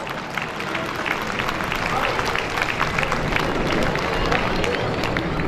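Loud, sustained applause from a large audience at a school annual day celebration, dense steady clapping filling the whole stretch with crowd noise mixed in.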